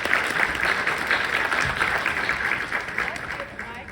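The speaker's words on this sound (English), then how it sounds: "Michael, a round of applause." Conference audience applauding after a session talk, a sustained wash of many hands clapping that slowly fades, with a speaker's voice partly over it.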